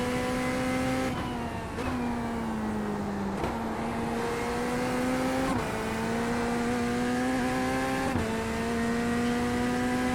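A race car on the Brands Hatch circuit in the iRacing sim, held in fifth gear and bouncing off the rev limiter: a loud, continuous high-revving engine drone with small stutters where the revs dip and recover.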